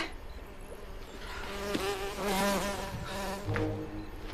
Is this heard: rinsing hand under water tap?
no